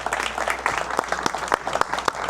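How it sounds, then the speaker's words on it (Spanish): A church congregation applauds at an inauguration service, a dense, moderately loud patter of many hands with a few sharper individual claps standing out, heard close and without talk. "Denle un aplauso también a ellos."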